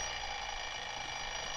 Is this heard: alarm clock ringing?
yes